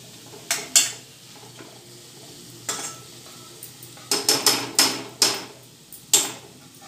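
A metal lid clanks down several times onto a pan of ghevda, brinjal and potato mixed curry. The sharp, close knocks and rattles come in short bursts against a quiet kitchen background, with no talking.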